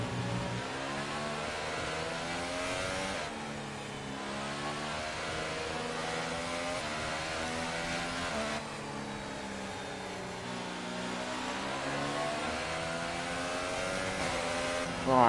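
A Formula 1 car engine in the F1 2018 racing game, a sustained high-pitched whine whose harmonics rise and fall steadily through gear changes and corners, loud and continuous for the whole stretch with no talking.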